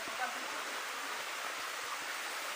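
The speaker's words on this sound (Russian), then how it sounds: "вот это снизу там водопад Чудо-Красотка" Steady, faint broadband rush of the Chudo-Krasotka waterfall near Lazarevskoye, heard from some distance below as a continuous even wash with no distinct splashes.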